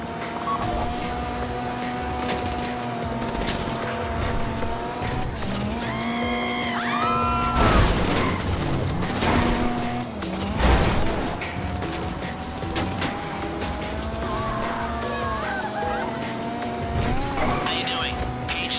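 Car driving in Grand Theft Auto 5, a steady engine drone with bumps and crashes, under someone talking throughout.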